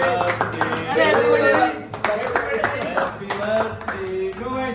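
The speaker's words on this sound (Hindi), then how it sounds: "ताली दो ताली दो ताली दो ताली" People clap in rhythmic bursts at a birthday cake-cutting celebration among friends, with loud nearby claps under excited talking and singing voices.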